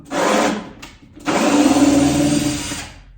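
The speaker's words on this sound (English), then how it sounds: "now, take my drywall screws out" Power drill backing drywall screws out of a wall patch, two bursts of whirring: a short run, a brief pause, then a longer steady spin, close and loud.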